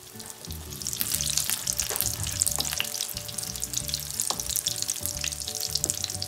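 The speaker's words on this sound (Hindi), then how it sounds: "तो ये अब दोनों साइड से फ्राई हो गए हैं।" Dal bhallay, lentil fritters of mash and moong dal, sizzle and crackle steadily in hot oil as they fry on both sides, a loud continuous hiss with small pops and occasional stirring clinks.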